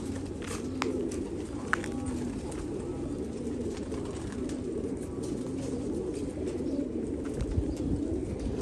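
Pigeons cooing on a rooftop, their soft low repeated coos rolling on through a steady outdoor hum, with a few faint scattered clicks and no voices.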